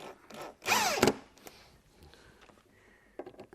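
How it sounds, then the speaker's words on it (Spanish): A power drill drives screws into a repaired wooden bench, one loud whirring burst rising in pitch, then short quieter bursts and mechanical clicks. "Poco a poco vamos atornillando."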